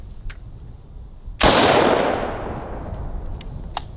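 A single sharp AK-47 shot with a 7.62x39 round fired into a Yeti cooler, loud and close, a sudden crack followed by a long decaying echo and rumble, with faint clicks before and after.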